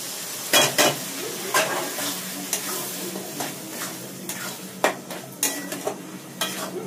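Tarka dal sizzling in a hot pan while being stirred, with repeated scraping and clanking of a spoon against the pan over a continuous frying hiss.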